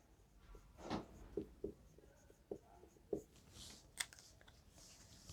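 Pen writing on paper during a math lesson, faint scratchy strokes in short irregular bursts with brief pauses, close and quiet, no voices.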